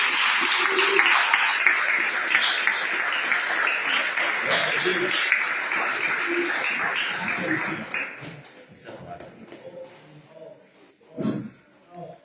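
A church congregation at a teaching service applauds, with a long wash of clapping mixed with voices that gradually thins out, followed by a few scattered sounds and a brief burst near the end.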